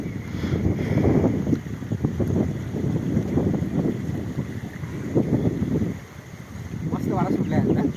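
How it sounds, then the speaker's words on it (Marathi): Wind gusting along the bank of a flooded village river, loud rushing buffets that swell and ease in waves across the whole stretch. "मस्त वारा सुटला आहे ना."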